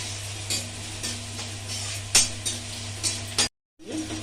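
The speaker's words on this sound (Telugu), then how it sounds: "ఇంగువ పోపు వేసుకున్నాను. పోపు వేగాక పచ్చిమిరకాయలు, కరివేపాకు, మిరపకాయలు వేసుకోవాలి." A tempering of asafoetida, green chillies and curry leaves sizzles quietly and steadily in a pan, broken by a few light metal ladle clinks and stirring taps, then a brief silence.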